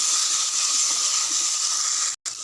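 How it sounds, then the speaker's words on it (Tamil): Green chilies and tomatoes sauté in a pan for dosa chutney, making a loud, close, steady hiss and sizzle with a brief silent gap near the end. "பாருங்கள் பச்சை மிளகாய் நல்லா வதங்கிடுது."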